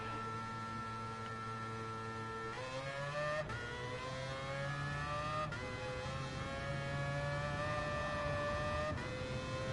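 A race car in a PS4 racing video game, its engine a steady high whine with shifting pitch as gears change, continuous and fairly quiet, with no talk over it.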